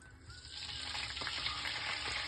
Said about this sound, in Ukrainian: Далі викладаємо нарізаний балик,